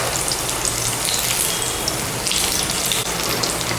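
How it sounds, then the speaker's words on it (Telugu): Mirchi bajji, batter-coated chili fritters, frying in hot oil make a steady, close, dense sizzle with crackling and popping throughout. "మంచిగా వేగుతాయి ఇవి."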